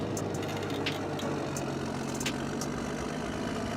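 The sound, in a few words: Caterpillar D8H Turbo bulldozer engine with turbocharger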